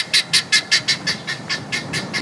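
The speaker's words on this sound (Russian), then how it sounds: "Это же снова птички." Birds calling in Dubai: about a dozen sharp, evenly spaced squawking chirps, loud and close, with no talking.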